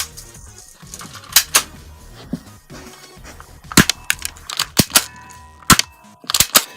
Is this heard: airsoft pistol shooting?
yes